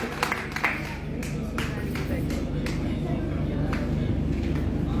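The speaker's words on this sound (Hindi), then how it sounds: "एक बार साथियों जोरदार तालियां बजा दीजिए" An audience at a Hindi poetry gathering and awards ceremony claps together, a dense steady patter of applause that carries on throughout with a few louder claps at the start.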